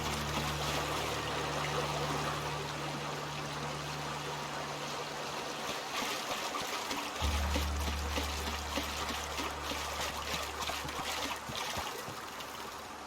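A waterfall in The Outer Worlds pours and splashes in a steady, soft wash of falling water that runs the whole time, with a low tone shifting partway through.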